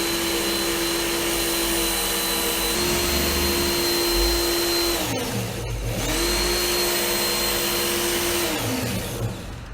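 A Work Sharp belt knife sharpener runs with a steady motor hum and whine, and a blade pressed against the belt adds a rasping grind that dips and recovers midway. The sound is close and loud, with no talking.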